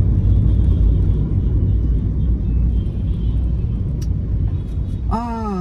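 Steady road rumble and engine whir fill the inside of a moving car, a dense continuous drone with faint distant traffic, broken only by a brief voice at the very end.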